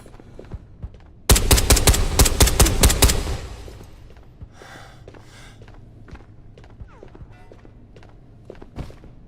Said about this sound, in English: it could only hold 50 bullets, which is really fucking terrible for a magazine that's supposed to, you know, be for a machine gun